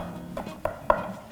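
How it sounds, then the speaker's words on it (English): A pastry cutter chops egg into flour and butter in a bowl, giving three soft, dull thuds about a quarter second apart, close and fairly quiet. "you're just going to start chopping the egg in."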